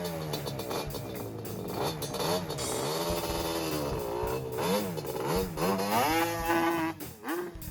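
A Yamaha Banshee ATV's two-stroke engine runs after the gas is turned on, revving up and down repeatedly with a raspy, buzzing wail, loud and close throughout.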